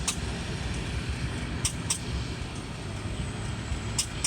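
A semi truck stuck in soft beach sand on the Outer Banks, its engine droning and spooling up in a steady low rumble with a few sharp hissing bursts, near and loud, no talk.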